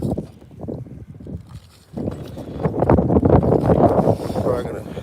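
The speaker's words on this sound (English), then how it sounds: "This wind is kicking up, man." Wind gusts on a frozen lake in Pennsylvania during ice fishing, rough buffeting against the microphone that is softer and choppy at first, then swells into a louder, sustained roar.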